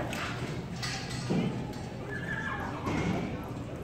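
Horses at a county fair rodeo event with cowboys mounted, a couple of whinnies and neighs rising over clip-clopping hooves, moderately close, with a person talking over a loudspeaker in the background.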